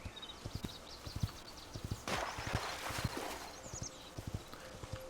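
Hooves of a horse in the video game Hytale clip-clop in a steady walking rhythm, close and clear, with a brief swell of rustling noise midway and a faint whinny, no talking.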